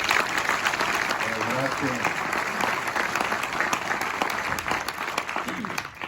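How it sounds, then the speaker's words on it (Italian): An audience at an Italian event applauds the organizers with loud, dense, sustained clapping that fills the room, while a voice speaks briefly over the applause. "applauso per gli organizzatori."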